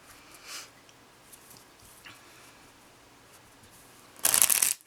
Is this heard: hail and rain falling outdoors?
no